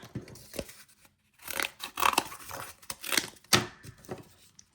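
Scissors slice through a strip of cardboard while building a cardboard Spinosaurus action figure, giving a close series of crisp, rasping snips and short tearing crunches after a brief pause, with no talking.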